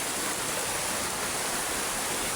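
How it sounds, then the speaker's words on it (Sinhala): Kabaragala waterfall at Mandaram Nuwara sends out a constant dense roar of falling water, loud and unbroken throughout. "දියඇල්ලක් තමයි මේ කබරගල ඇල්ල දියඇල්ල."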